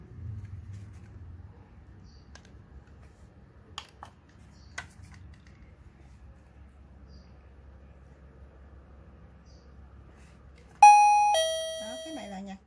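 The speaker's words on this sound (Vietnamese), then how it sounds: "cái này là nhạc chuông" AT-216 visitor alert doorbell chime: a bright electronic ding-dong melody of a few descending tones rings out near the end, clear and close, after a quiet stretch with faint background noise and a couple of small clicks.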